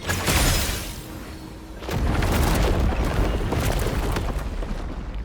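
A breakable wall in Genshin Impact is smashed apart with a loud, deep booming crash followed by a sustained rumbling roar of crumbling debris that stays dense and heavy to the end.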